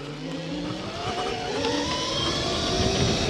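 An electric dirt bike with an aggressive aftermarket setup rides on the road, giving a steady loud whine and road roar that climbs in pitch as it speeds up, with no talking.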